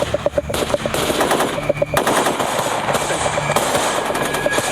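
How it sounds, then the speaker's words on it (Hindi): Rapid bursts of automatic gunfire crackle through a film battle scene as a team lays down counter fire, sharp repeated shots over a dense, loud rumbling background. "मेजर अवस्थी की टीम काउंटर फायरिंग कर रही है"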